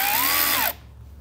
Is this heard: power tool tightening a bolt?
yes